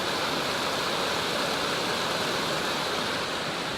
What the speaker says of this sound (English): first creek crossing, water levels should be low right now technically